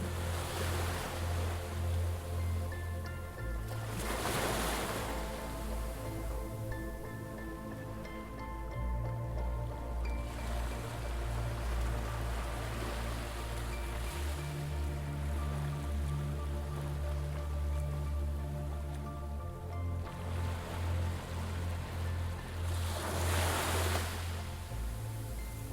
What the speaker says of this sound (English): really therapeutic listening to the sound of the sea